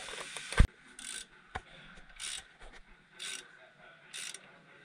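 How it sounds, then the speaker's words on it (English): Half-inch ratchet with a 15 socket loosening shock bracket bolts on a 1998 Ram 1500, a loud clank at the start followed by repeated bursts of ratcheting clicks spaced about a second apart, close by. "We're gonna use a half inch ratchet with a 15 inch socket on it to get those off."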